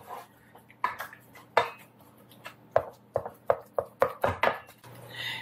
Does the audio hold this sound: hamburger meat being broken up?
yes